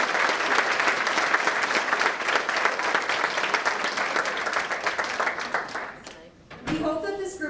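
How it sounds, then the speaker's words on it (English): An audience at a women's alumni panel event breaks into sustained, dense applause that fades out near the end before a voice begins speaking. "Let's have a big round of applause for these incredible."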